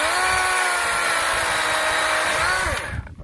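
Dewalt 12-inch battery chainsaw cutting through a 2.5-inch white birch log, a loud, steady, high-pitched buzzing whine close by, then cutting off abruptly near the end, with no talking.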